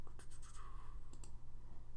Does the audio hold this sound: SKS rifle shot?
no